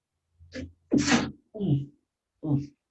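A single sharp sneeze, close and loud, with brief speech just before and a few short spoken words following it.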